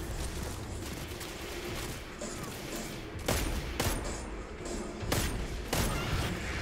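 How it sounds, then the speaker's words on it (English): Hand cannon gunfire in Destiny 2 cracks out several times against a busy, noisy game background, with sharp reports spaced a second or so apart. "my wife just mentioned that she's using a hand cannon"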